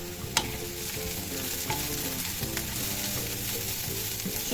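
Softened onion and grated carrot fry together in a pan with a constant close sizzle, broken by occasional scraping clicks of stirring, no voices.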